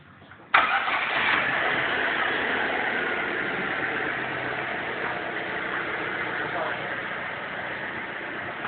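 A Chevrolet Celta's engine cranks and fires abruptly, then settles into a steady, close idle that runs continuously afterward.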